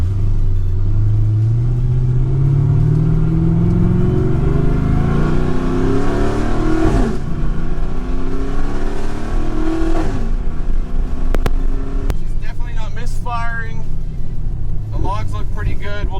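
A car with a C16 setup drives and accelerates, its engine rumbling and rising in pitch through repeated revving pulls, loud and close from inside the cabin, with some faint sounds near the end.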